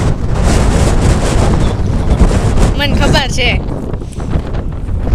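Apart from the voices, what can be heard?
strong wind blowing on a hilltop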